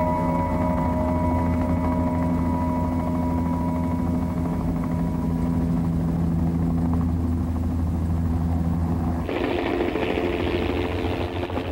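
A steady, droning rotor-and-engine roar that holds constant, then shifts to a brighter, noisier whine near the end; no voices.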